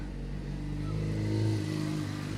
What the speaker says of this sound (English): don't mind the noise, it's just my neighbor and her motorcycle